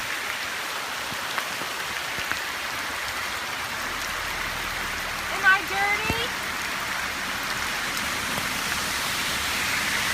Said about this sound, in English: And it is raining so hard.